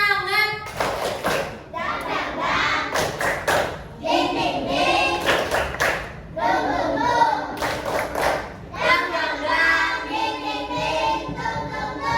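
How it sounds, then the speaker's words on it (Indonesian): Schoolchildren in class do a patterned spirit clap, sharp clapping bursts mixed with loud chanted voices in rhythm, rising and falling in short phrases before a quiz. "Tepuk semangat."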